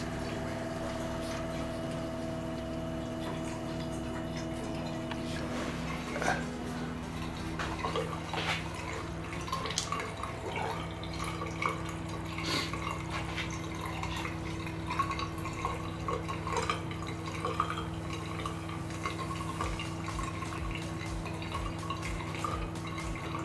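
Water runs and trickles steadily over a low mechanical hum from the pump of a reverse osmosis unit running its self-cleaning cycle, with occasional clicks and drips, continuous for the whole stretch.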